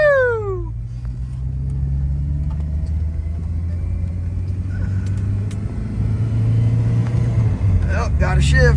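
A GMC truck engine rumbles steadily and revs with a gear shift midway, loud and continuous under a running vehicle drone, while a person talks over it.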